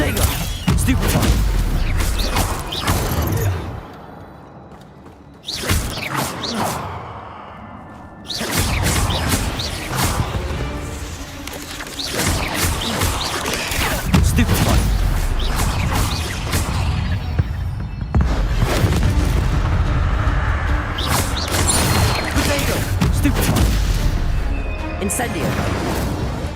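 Spell casting in Hogwarts Legacy, with a run of loud whooshes, crashes and booming impacts in rapid succession and brief quieter gaps between them. Nobody talks over the effects.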